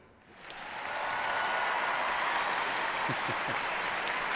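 Audience applause welcoming actor Hugh Bonneville at a Christmas event, a broad sustained clatter of many hands that swells in over the first second and holds steady and loud.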